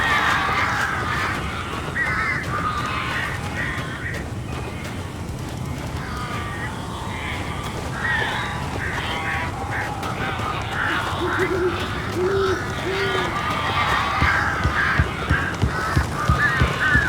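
Crows caw in a harsh, repeated chorus inside the Alan Wake video game, the calls layered over a steady, dense background of game ambience for the full stretch.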